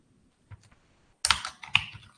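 Several keystrokes on a computer keyboard while coding in C: a soft tap, a pause, then a short, louder burst of quick clicks up close.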